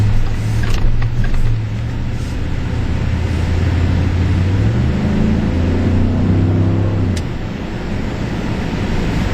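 A 2011 Ford F150 Lariat Limited pickup engine pulls at half throttle from inside the cab, a loud steady drone rising through gear changes over several seconds, with no talking.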